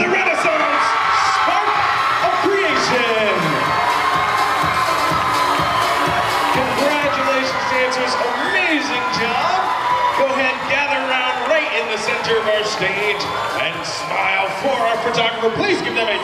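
Large crowd at a national dance competition final cheers, whoops and yells continuously for a 15-19 age division grand champion, loud and sustained throughout, with an announcer's voice partly mixed in.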